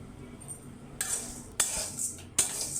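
Semai vermicelli being dry-fried and stirred in a pan, with three sharp metallic clinks of a spoon against the pan spaced about half a second apart over a quiet background.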